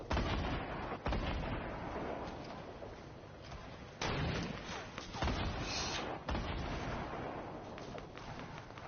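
Fortnite gunfire, a run of loud close shots spaced irregularly every second or so, each sharp crack followed by a long decaying echo over steady background noise.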